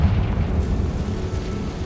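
A Confringo spell explodes in Hogwarts Legacy, producing a heavy, rumbling low boom that stays loud and broad across the whole moment before easing slightly.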